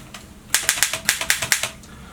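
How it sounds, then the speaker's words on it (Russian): An Erika M manual typewriter clacks through a quick run of about ten sharp typebar strikes, close and crisp, with no voices. "Литера ударяет по верхней половине ленты"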